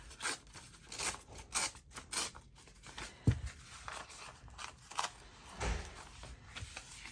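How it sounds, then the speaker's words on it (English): Paper hand torn while finishing an envelope journal, heard as several short rough ripping bursts spread across the clip, close and fairly quiet, with no talking. "I've got to do my best tearing here as well and tear that off"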